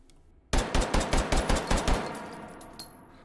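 Eight rapid pistol shots from the Llock in H3VR crack out in an even, quick rhythm, each sharp report trailing into a short echoing decay, followed by a faint mechanical click.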